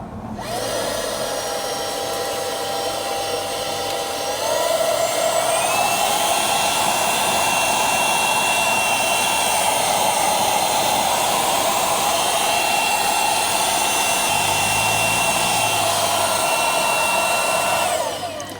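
Small handheld 3-in-1 vacuum cleaner fitted with a small brush nozzle, running in a steady high whine that rises in pitch and loudness partway through, then holds level until it shuts off near the end.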